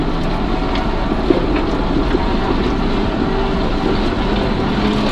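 A rally car drives through water puddles on a rough gravel road, giving a steady, loud roar of engine and rushing water spray with wind noise throughout.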